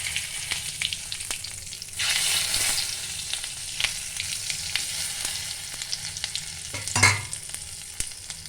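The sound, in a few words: bay leaf and cumin seeds sizzling in butter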